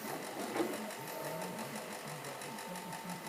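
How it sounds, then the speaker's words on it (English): Worn pulley on a saw with its cover removed, giving a steady whirring, rattling drone with a faint rhythmic flutter, running continuously and fairly close with no talking over it. "we've pulled the cover off the saw to check out this noise"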